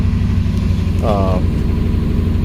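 Stone-cold 2007 Dodge Ram with the 4.7L engine runs at a high idle, a steady low rumble throughout, with a brief tonal whine rising over it partway through.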